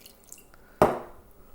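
Water added to a thick tahini salad dressing, a single short splash or drip followed by a brief fading tail, close and fairly clear against a quiet background.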